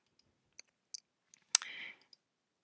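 Computer mouse clicks in design software: a few sharp, isolated clicks spaced out, then a slightly louder click followed by a short rasp, all close and quiet with no talking.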